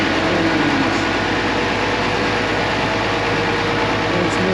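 An old, high-hour combine harvester engine idles steadily, close and loud, with a constant low rumble and no voices.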